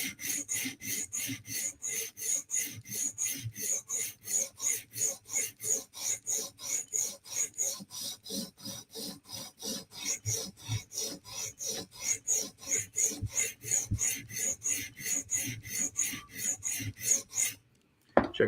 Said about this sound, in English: Just get the burr on the edge now.